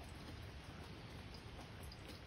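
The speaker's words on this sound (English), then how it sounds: "You don't have to sit out here in the rain." Cold rain falls steadily outdoors, a faint, even hiss of drops with no breaks and no voices over it.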